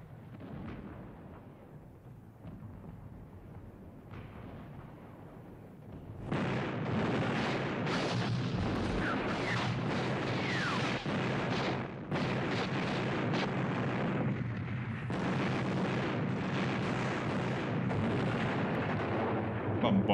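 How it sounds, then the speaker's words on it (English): Cannon artillery bombardment from the 1970 film Waterloo: after a quieter opening, dense booming gunfire and rumbling blasts erupt around six seconds and continue loudly and almost without pause to the end, with a voice briefly heard beneath. "Bombarding the shit out of each other."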